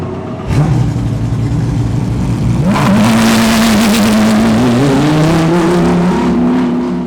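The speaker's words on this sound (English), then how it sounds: "you'll hear this absolutely insane V10 scream when it starts" A Lamborghini GT3 race car's V10 engine cranks and fires, then settles into a loud, close, rising idle with a few sharp revs, heard alone from inside the cockpit.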